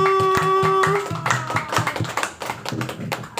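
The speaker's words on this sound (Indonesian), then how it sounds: "Berikan tepuk tangan yang meriah untuk Dokter Winda" Applause welcoming a doctor onto a health talk show about cancer and nutrition, with distinct hand claps from a small audience over a sustained musical tone and jingle that fades after the first second.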